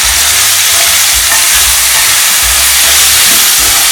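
Seeraga samba rice tipped into hot ghee sizzles loudly, a dense steady frying hiss broken by low scraping as it is stirred, with no voices.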